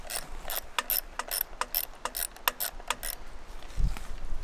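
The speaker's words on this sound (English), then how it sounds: "Father Wisdom working the ratchet set over here." A ratchet set being worked while a trail camera is taken down outdoors, giving rapid bursts of close, crisp clicking in uneven runs, ending with a dull low thump.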